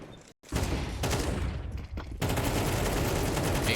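Rapid bursts of AK rifle fire in a Counter-Strike match on the Inferno map, loud sharp repeated shots in dense volleys with a brief gap near the start, then continuous heavy gunfire layered with more shooting.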